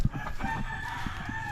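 A rooster crows nearby in a Philippine farmyard, a drawn-out harmonic call ringing over faint clucking and background rustle, with no talking.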